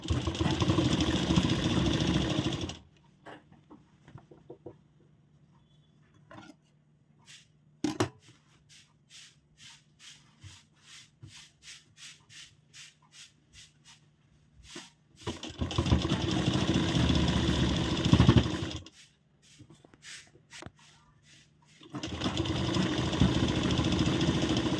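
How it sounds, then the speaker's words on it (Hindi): An electric sewing machine stitches the straight side seam of a shawl-collar blouse, running in three loud, steady bursts separated by quiet pauses filled with faint handling clicks. "तो पहले हम सीधे साइड सिलाई लगा रहे हैं।"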